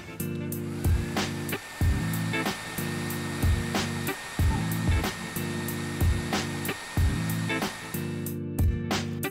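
Heat gun or hair dryer warming the flap of a skin being applied to a OnePlus 7T phone, a loud steady whir that cuts out and restarts several times in short bursts, no talk.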